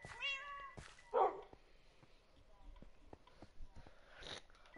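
A cat, an ocelot in a video game, gives one short meow at the start, followed by brief quiet clicks and soft scattered sounds.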